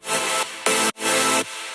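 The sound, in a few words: distorted synth sound, Fab Filter distortion and OTT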